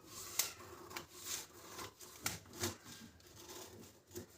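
Scissors cutting fabric for a katori blouse, with faint, close snips and soft rubbing of cloth in an uneven rhythm, no voices.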